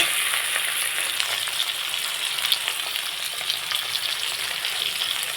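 Chopped tomatoes with salt frying in a pan for a fish curry, a continuous close, loud sizzle with light stirring scrapes and no talk.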